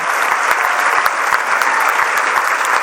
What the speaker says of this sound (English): Could we please have a round of applause for Jason Thomas